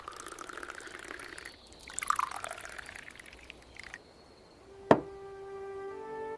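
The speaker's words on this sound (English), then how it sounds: "I pour some milk into my coffee." Milk poured into a cup of coffee, a soft liquid stream rising in pitch as the cup fills, followed by a clink and a faint ringing tone.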